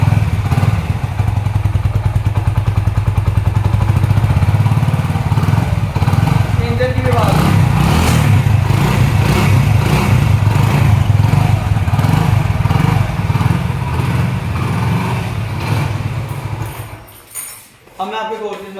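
A Honda Pridor 100cc motorcycle idles close by, its single-cylinder engine thumping in a steady, rapid beat with a clattery mechanical edge for most of the stretch before the revs drop and it fades near the end.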